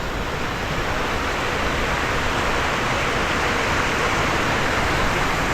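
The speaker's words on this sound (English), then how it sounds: "I just brought myself off the path to see this little waterfall here" A small waterfall along the Torrent Walk near Dolgellau in Snowdonia, Wales, rushes steadily, a dense, even roar of falling water close by with no voices.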